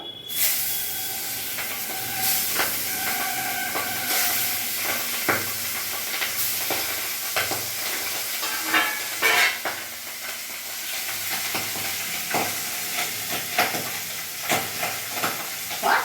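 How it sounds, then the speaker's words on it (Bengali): The remaining pabda fish sizzle in a hot wok, a continuous close frying hiss punctuated by frequent clinks and scrapes of stirring and turning. "এবার আমি বাকি মাছগুলো ছেড়ে দেবো।"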